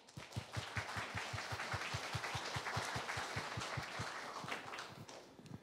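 An audience at a community event for people over fifty claps to welcome a speaker, a steady run of quick, evenly spaced claps that carries loud and unbroken from start to finish, with no talking over it.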